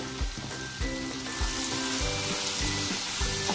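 A Gobi Manchurian mixture fries in a pan while being stirred: a continuous sizzle over low, rhythmic scraping thumps from the stirring, close up and without speech.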